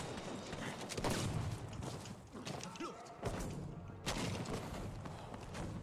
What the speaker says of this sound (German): Ein Streiftreffer, wollt ihr mich verarschen?